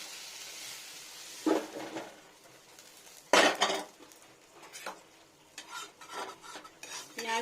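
A spoon scraping and clattering in a pan as fried tomato is stirred into a jackfruit curry, a few sharp metallic knocks and scrapes standing out over a soft, low sizzle, with no talking.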